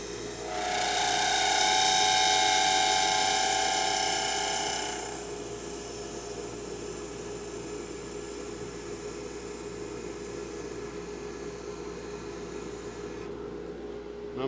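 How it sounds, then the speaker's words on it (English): A wood lathe spins a workpiece being turned and parted. A loud, high whine lasts about five seconds, then drops to a quieter, steady running hum for the rest. "I'm going to turn the lathe way down while I finish up just this last little piece here"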